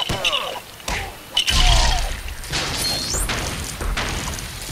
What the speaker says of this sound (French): j'ai dû casser un canon